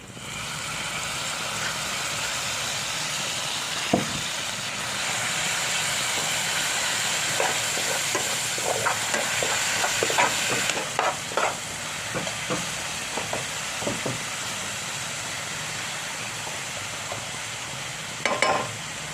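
Chopped green chillies with curry leaves frying in a pan, a steady hiss of oil with scattered pops and crackles that cluster midway, continuous and fairly close.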